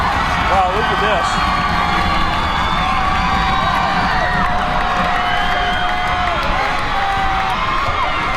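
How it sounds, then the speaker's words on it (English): Rival stands at a Putnam versus Commerce high school football game keep up a loud, steady roar of cheering and shouting in a crowd battle, whoops rising above the din while an announcer talks. "trying to have a contest to see who's louder here"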